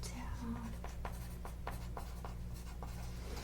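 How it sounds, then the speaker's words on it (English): Pen scratching notes onto paper in several short strokes, close and soft over a steady low hum of room noise. "let me write that"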